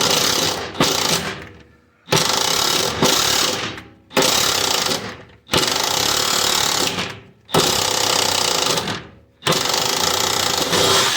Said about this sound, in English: Old suspension bolts, it's best run them in, run them out.